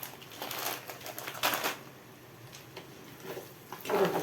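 Small pasta poured into a pot of rice and oil for one-pot koshari, giving brief dry rattling, crackling bursts against a quiet background, louder near the end.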